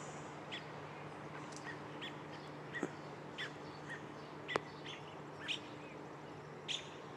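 Faint, sharp robin chirps repeat every second or so over a steady early-morning outdoor hum, with a few louder single calls standing out.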